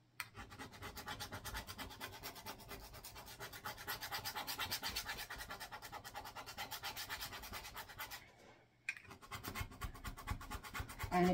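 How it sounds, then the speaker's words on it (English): A scraper rasps repeatedly across reusable chalk chips, clearing off old chalk in a fast, continuous scratching close by; it stops briefly near the end, then resumes. "So we're going to clean these off and use our scraper."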